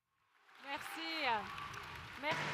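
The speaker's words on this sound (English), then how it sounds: "A round of applause for her." A conference audience applauds in a steady wash of clapping that swells and holds, with a speaker's voice talking over it throughout.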